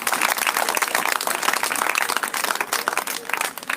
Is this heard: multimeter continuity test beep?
no